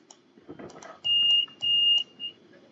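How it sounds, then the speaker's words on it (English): Two sharp electronic beeps sound in the cab of a class 377 electric train in Train Simulator 22, steady high tones about half a second each, then a shorter third blip, over quiet background murmur. "Maybe one beep to the signalman means open doors."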